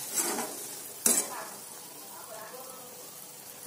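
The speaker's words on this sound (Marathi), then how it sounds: "आणि याला चांगलं हलवून घेऊया।" A spoon stirs cowpea curry in masala with a little water in a pan, scraping and sizzling steadily. Two sharper clinks stand out near the start and end.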